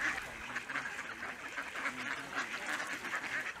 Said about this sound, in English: one of the more popular activities here is feeding the ducks